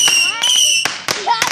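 Fireworks go off nearby in a quick series of sharp bangs, some trailing high whistling tones, with loud bursts spaced irregularly over a second and a half.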